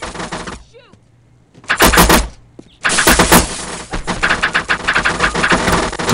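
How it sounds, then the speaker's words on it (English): Loud, close shotgun blasts in the video game Postal 2, with a couple of heavy bursts separated by gaps followed by a longer stretch of rapid, rattling fire. "And of course the eternal damnation shotgun."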